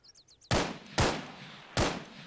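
Three loud, sharp gunshots in Arma 3's Breaking Point zombie mod, spaced about half a second apart, each with a short echoing tail, after a brief faint chirping sound.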